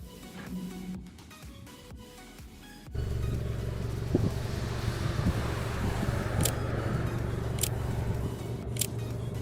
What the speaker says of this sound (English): There's all the cars passing here.